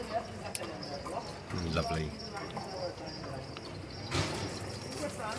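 Horses clip-clopping past the cathedral in Mdina, Malta, with moderately near hoof clatter on the street, heard under outdoor ambience and a brief spoken remark.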